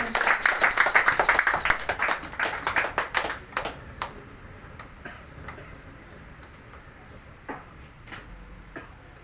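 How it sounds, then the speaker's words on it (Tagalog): Congregation claps for God during a Filipino church service, a dense burst of many hands at first that thins over a few seconds into scattered, fading claps. "Isang malakas na palakpak para sa ating Diyos"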